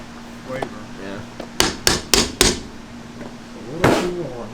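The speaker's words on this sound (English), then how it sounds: "The hammer sends a vibration through the hook and loosens up the candy." A hammer strikes a metal candy hook four times in quick succession to loosen ribbon candy in a kitchen, each hit sharp and ringing, followed by a fainter single tap.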